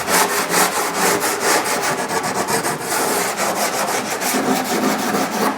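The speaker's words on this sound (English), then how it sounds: "you're going to want to block it out with your block." A sanding block fitted with aggressive 36 grit sandpaper works over car body panels during bodywork, making a loud, continuous rhythmic scraping of fast back-and-forth strokes close by.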